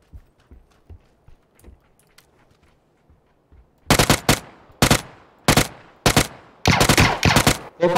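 Gunfire in the video game PUBG, a few faint distant pops at first, then loud close bursts of rapid shots in the second half, separated by brief gaps.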